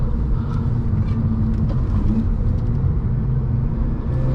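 A Mazda RX-8 driven hard on a twisty mountain road, a loud steady engine drone and road rumble from inside the car, continuous without breaks.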